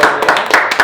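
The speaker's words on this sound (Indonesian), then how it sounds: "Boleh tepuk tangan terlebih dahulu" An audience claps at an online winter music festival's classical piano competition, a short run of several close, loud hand claps in an uneven rhythm.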